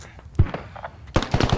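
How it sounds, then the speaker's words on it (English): Mortar fire in the video game Squad: a sharp thump early on, then a dense cluster of loud booming blasts near the end, with faint radio chatter in between. "900, shoot mortars."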